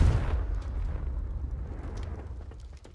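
A Confringo blasting spell explodes in the game Hogwarts Legacy, a heavy boom at the start that rolls into a long, rumbling decay with scattered crackling debris and no speech.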